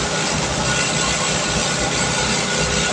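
A water pump's loud, steady engine drone runs continuously, a dense unbroken roar with no pauses.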